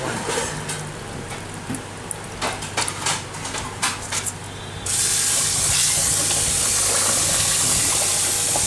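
Rice being rinsed under running tap water, with a few close splashes and clinks giving way to a loud, steady rush of water.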